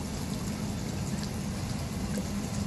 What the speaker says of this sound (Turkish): Yağmurlu havada sürmenin de keyfi bir güzel ha.